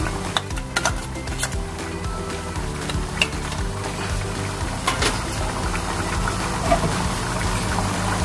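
Garlic paste fries in oil in a pan, giving a steady close sizzle with occasional scraping stirs and small crackling pops throughout.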